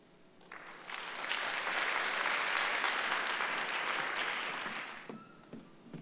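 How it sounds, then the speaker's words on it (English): An audience at a student poetry recitation semifinal breaks into applause that swells to a full, steady roar of clapping, then tapers to scattered claps. "So let's give another big round of applause for all of our students today."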